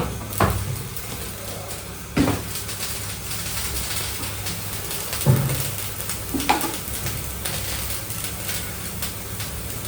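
Chopped onions with a pinch of salt sauté in a pan, giving a steady low sizzle broken by a few sharp clinks and scrapes of a stirring spoon.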